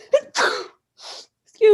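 Several sneezes in quick succession, sharp and close, each a short explosive burst with a breathy lead-in, one voice briefly sounding around them.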